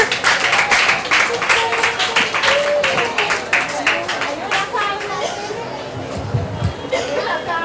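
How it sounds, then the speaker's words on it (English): An audience at a financial markets fair applauds with steady clapping mixed with crowd chatter, and the clapping carries on for several seconds. "A round of applause for her, please."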